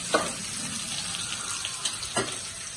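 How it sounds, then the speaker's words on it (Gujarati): Okra cooks in oil with mustard seeds, cumin-coriander and asafoetida over a low gas flame, giving a soft continuous sizzle with a couple of brief utensil knocks. "ગેસની ધીમી ફ્લેમ ઉપર આ રીતે ભીંડાને ધીમે ધીમે શેકવાનો છે"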